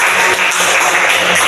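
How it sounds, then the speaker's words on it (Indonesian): Applause from an audience at a talk, a dense steady wash of clapping filling the short moment without a pause. "Kasih tepuk"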